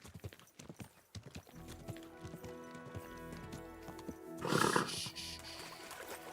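Horse hooves clip-clop in a medieval Bohemia video game, with a loud whinny bursting out near the end over game music and ambient sound.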